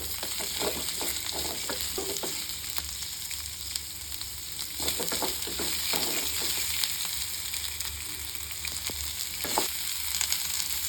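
Onions frying in a pan on a medium flame, stirred from time to time: a continuous close sizzle with bursts of scraping and rustling as the spoon moves through them.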